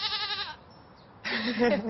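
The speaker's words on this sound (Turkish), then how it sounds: "Selin, bahçede keçi var." A goat in a garden bleats twice, two wavering, nasal cries nearby separated by a short quiet gap, with no speech over them.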